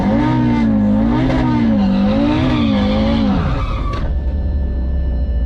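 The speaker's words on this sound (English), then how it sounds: "get a better burnout" A burnout at a drag race between a 650 WHP Audi RS3 and an 850 WHP Dodge Hellcat: a loud, wavering engine roar over screeching tires holds for about four seconds, then drops to a steadier, quieter rumble.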